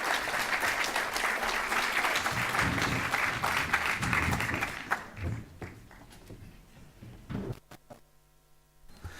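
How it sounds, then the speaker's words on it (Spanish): Audience applause for a panel at a conference session, a dense burst of many hands clapping that swells, holds for about five seconds, then fades into scattered claps and quiet. "Si le tributamos un aplauso a Nicolás y a los panelistas, vamos a estar más en confianza."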